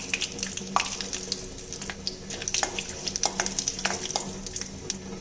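Whole spices, including fennel seeds, fry in hot oil for a tomato kurma, giving a steady crackling sizzle with sharp pops scattered throughout, close and moderately loud.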